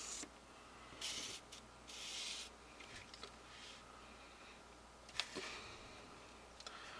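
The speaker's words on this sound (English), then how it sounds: "I'm going to try and erase out a line" An eraser rubs out a pencil horizon line on paper in several short scrubbing bursts, close and soft, with small taps and pauses between strokes and no talking.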